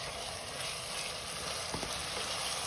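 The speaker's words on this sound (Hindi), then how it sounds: "जब तक हमारा टमाटर भून रहा है" Chopped tomatoes with salt frying in a pan, a steady soft sizzle and hiss running evenly throughout with no talk.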